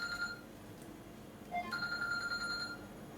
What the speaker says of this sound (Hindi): अरे यार एक बहुत इंपॉर्टेंट फोन आ रहा है